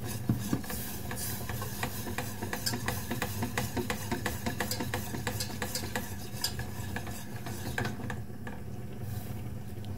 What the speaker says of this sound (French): Je verse un tout petit peu de lait, je remue bien.